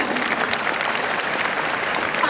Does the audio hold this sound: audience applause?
yes